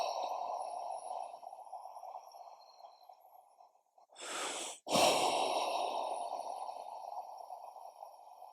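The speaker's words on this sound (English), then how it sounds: "Take 3 deep breaths out with relief." Slow, deep breaths during a meditation session: a long, soft airy exhale, a short sharp intake, then another drawn-out breath out, close and quiet with no talking.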